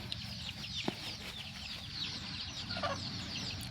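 A small-breed (siruvidai) country mother hen clucks softly near her mixed-breed chicks on a farm. The low clucks are intermittent over faint chick peeps and farmyard ambience.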